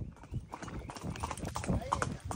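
Horse hooves clip-clop steadily during a horse ride at Mahabaleshwar, a quick, close rhythmic beat of hoof strikes running throughout, with people talking over it.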